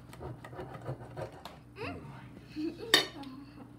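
Cutlery clinks and scrapes against a plate as a knife cuts through crunchy churro waffles. Light taps and scratches come in an uneven rhythm, one sharp metallic clink rings out near the end, and soft voices murmur faintly underneath.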